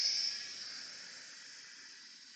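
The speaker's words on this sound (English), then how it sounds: "that the steam is really high pressure" Steady high-pressure steam hissing from an Instant Pot's release valve while a simple pasta sauce cooks, loud at first and easing slightly over a couple of seconds, with no talking.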